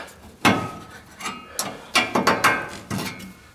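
Short metallic ratcheting clicks come in separate bursts as a bolt is tightened on a Dodge Ram 1500's Firestone Ride-Rite air bag suspension. The clicks are close and fairly quiet, with brief pauses between groups.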